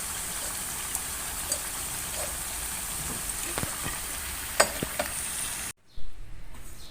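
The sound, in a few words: potato pakora frying in oil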